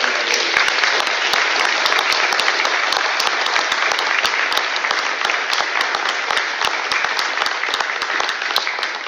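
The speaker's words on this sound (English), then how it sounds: "Let's get a round of applause for all of us." Steady round of applause from the audience at a Multnomah County Commissioner candidate forum, dense clapping sustained for the whole stretch without letup.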